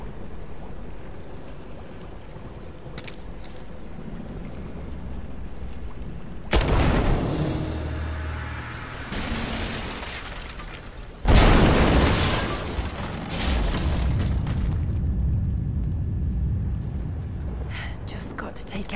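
Greek fire vessels exploding against statue supports in the Rise of the Tomb Raider video game: two sudden, heavy booms several seconds apart, each followed by a rumbling roar, over steady low game ambience.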